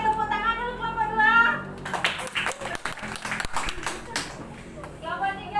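A school class claps for group 2, a burst of many children's hands clapping in a quick, uneven patter that runs a few seconds between stretches of a teacher talking.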